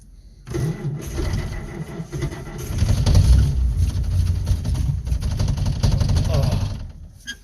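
A vehicle engine with no fuel reaching it cranks repeatedly, the starter churning in uneven bursts that nearly catch but never settle into a run; close and fairly loud, with a voice heard over it.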